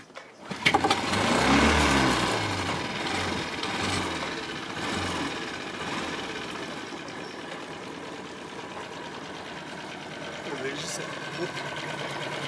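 Outboard engine on a compact Viko S21 sailing yacht, pull-started by rope and then running steadily with a buzzing, sewing-machine-like drone; a voice talks over it.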